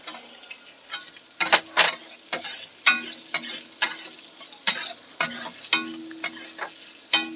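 Chopped onion and green chilli frying in hot oil for flattened rice pulao, with bursts of sizzling and repeated stirring scrapes in an uneven rhythm, close and fairly loud.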